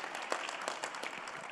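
Scattered, faint applause from a conference audience, a thin patter of clapping that holds steady without building.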